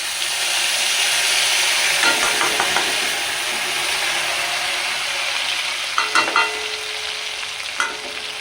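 Ground mustard paste with green chilies and salt sizzles steadily in hot oil for a fish curry, with a spoon scraping and stirring the pan in short bursts over the constant frying hiss.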